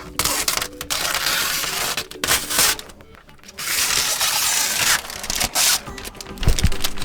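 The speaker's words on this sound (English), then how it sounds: "Now, a little bit more peeling off to do here." Protective plastic film is peeled off a new Eufy X10 Pro Omni robot vacuum during unboxing. It makes loud, crackly ripping and rustling bursts, close up and broken by brief pauses.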